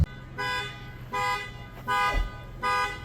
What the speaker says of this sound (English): This expedition alarm keeps going off.